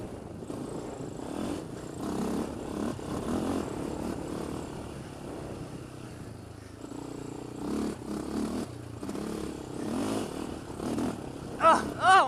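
A Polaris Outlaw 525 ATV engine drones steadily while riding in low gear, the motor note rising and falling over bumpy ground, with a rider's voice occasionally heard over it.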